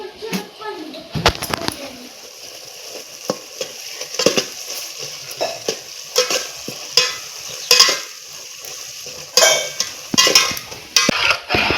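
A spoon stirs and scrapes coconut masala paste in a frying pan, with steady sizzling and repeated close, sharp clatter against the metal; a voice speaks intermittently over the cooking.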